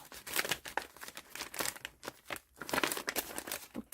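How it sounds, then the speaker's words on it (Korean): A thin plastic bag crinkles and rustles up close while a small parcel is packed, a quick irregular series of crackling scrunches with brief pauses between. "요거는 이 비닐에 한 번 더 넣어서 보내줄 것 같아요"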